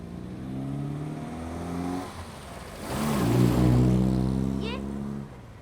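A car passing on a road, its engine rising to a broad rush in the middle then fading, with people talking and voices over it.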